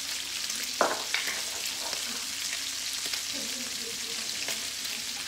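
Bacon sizzles in a pan with diced onion and garlic as the base for a chili, a steady close hiss broken by a few sharp pops and stirring clicks, with no talking.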